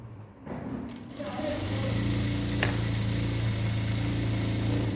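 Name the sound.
sewing machine stitching lining cloth of blouse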